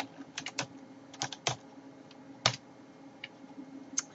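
Keys clacking on a computer keyboard in short irregular bursts, close and fairly quiet, with gaps between strokes and a louder tap near the middle.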